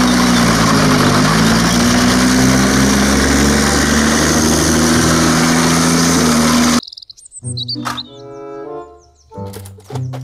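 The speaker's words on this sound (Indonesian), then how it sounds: "Mobil tank baja." A toy steel tank runs its motor, giving a loud, steady buzzing whir with a low droning hum that holds for about seven seconds, then cuts off abruptly into a few brief, unrelated sounds.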